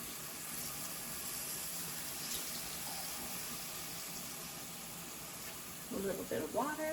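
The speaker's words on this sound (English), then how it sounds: "A little bit of water." Water poured into a cooking pot with diced tomatoes and jalapeno, a soft steady trickle and faint bubbling, quiet and close, with a voice speaking briefly near the end.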